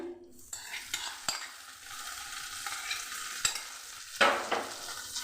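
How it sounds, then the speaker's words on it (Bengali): Grated sweet potato fries in ghee in a wok, with a soft continuous sizzle broken by scraping strokes and sharp clicks of a spoon against the pan, close up with no talking. "ঘিয়ে আলুটাকে আমি ভালো করে ভেজে নেব"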